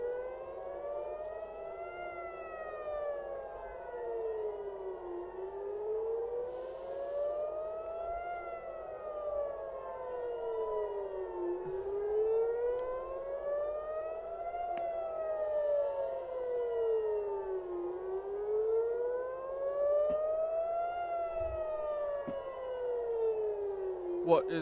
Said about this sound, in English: Sirens are lit up.